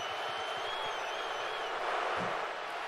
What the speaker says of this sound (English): And this crowd's on their feet And they're now. booing him.